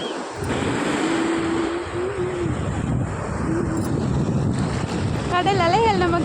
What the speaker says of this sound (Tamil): அலைகள் தள்ளுது, இழுக்குது இழுக்குது.